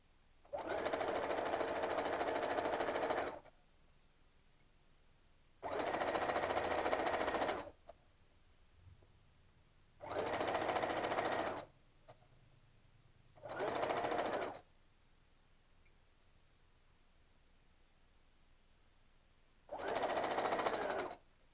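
A sewing machine stitching fabric gently around curves, in five separate runs of fast, even whirring with quiet pauses between them.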